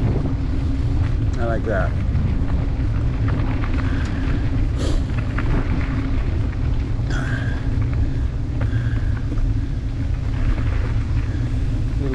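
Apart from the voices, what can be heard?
wind while cycling outdoors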